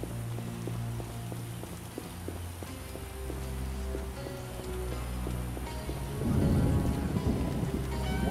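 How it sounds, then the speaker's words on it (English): A heavy downpour hisses steadily in The Witcher video game's swamp, with rumbling thunder rolling in loudly toward the end over a faint game soundscape. "A real downpour."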